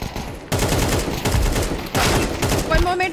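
Sustained gunfire from the video game Zero Parades: For Dead Spies, loud and close, with rapid bursts of shots rolling one after another through the whole stretch.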